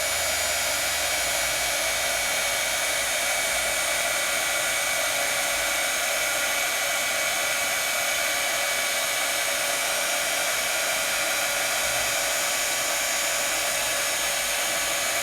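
A craft heat tool blows steadily to melt and set embossing powder over Versamark ink on a card. It makes a constant loud whooshing hum that runs alone and unbroken throughout.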